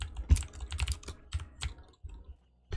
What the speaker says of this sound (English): the keyboard feels a lot more responsive than this